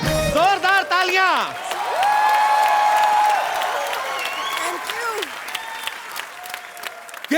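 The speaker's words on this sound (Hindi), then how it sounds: "जोरदार तालियां।" Loud, sustained studio audience applause on a comedy talk show, mixed with cheering, music and voices, swelling early and then holding steady before tapering slightly.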